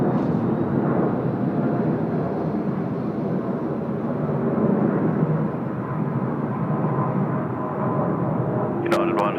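A United airliner taking off at Sydney Airport, a broad rumbling jet roar held steady at a distance, with voices talking over it and a brief sharp sound at the end.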